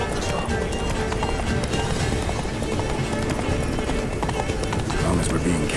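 Roach the horse galloping in The Witcher 3: Blood and Wine, a steady rapid drum of hooves close up with game music and voices over it.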